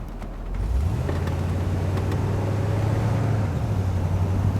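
Engine of a 1962 Oldsmobile Starfire convertible rises from a quiet idle into a steady, smooth low hum during a ride, heard alone at moderate loudness.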